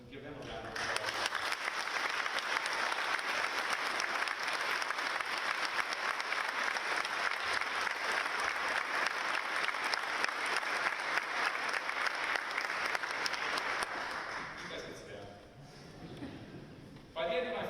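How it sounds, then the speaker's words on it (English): Sustained, dense applause from an audience at a Jersey City State of the City address, honoring police officers in attendance, holding steady for about thirteen seconds before thinning out and fading. "We'll give them a round of applause."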